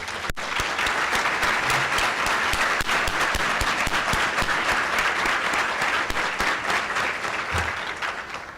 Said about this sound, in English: please join me in a round of applause for our parent advocates